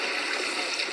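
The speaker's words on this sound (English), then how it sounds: "Waterfall." A waterfall in the video game Kung Fu Panda gives a brief, steady rush of falling water, a dense, even hiss at moderate loudness with no talk.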